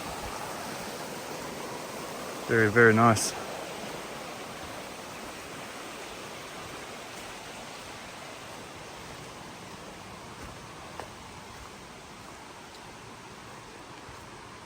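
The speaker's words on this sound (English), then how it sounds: "We're right beside the creek now." Creek water flowing steadily beside a trail through a rainforest-like forest in the Wilson Creek area of North Carolina, a continuous broadband rush close by, with a brief louder burst and a short spoken remark early on.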